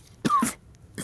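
A teacher coughs twice in close succession, loud and near, with a short throat sound in between.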